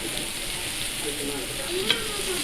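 Pork pieces stir-fry in a hot pan for Japanese okonomiyaki. The sizzle is loud and continuous, with one sharp metal clink near the end.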